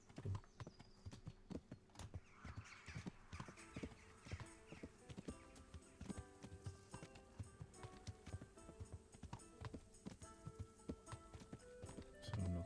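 Horse hooves clip-clop in a steady, brisk rhythm as a horse moves along in the medieval video game Kingdom Come: Deliverance, faint but continuous throughout with a possible whinny.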